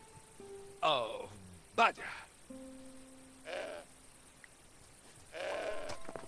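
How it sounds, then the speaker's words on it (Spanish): Two short, harmonic goat bleats from the video game Broken Sword 5: The Serpent's Curse ring out close by, separated by a second, with steady electronic tones and soft rustling between them. "La cabra..."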